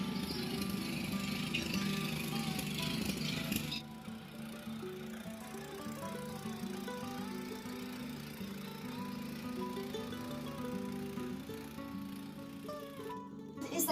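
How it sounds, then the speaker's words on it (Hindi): Tractor engine running in farm fields during clearing for a new crop, a continuous loud mechanical drone with a rattling, knocking rhythm that shifts pitch slightly midway. "हमने ट्रैक्टर चलाना स्टार्ट कर दिया है अपने खेतों में"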